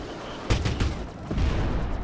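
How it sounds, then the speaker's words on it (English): Turret gunfire in Star Citizen rattles out in quick, loud bursts of rapid shots, with a short pause before another sustained volley. "these turrets are horrible to use"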